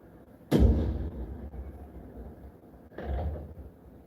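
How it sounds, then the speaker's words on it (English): Fireworks in a computer screensaver display go off as two deep, booming thuds a couple of seconds apart, each with a crackling tail fading out, fairly loud with no talking. "fireworks display"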